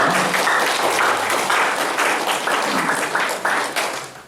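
An audience at a prayer meeting breaks into loud, steady applause of encouragement, a dense wash of many hands clapping that carries on without pause and fades slightly at the end.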